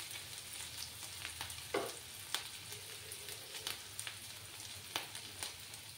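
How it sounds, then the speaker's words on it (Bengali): Onions fry in a pan with a quiet, steady sizzle and crackle, broken by occasional soft pops and stirring clicks, with no voices. "একটু সময় থেকে লাল করে ভেজে নিতে হবে পেঁয়াজটাকে"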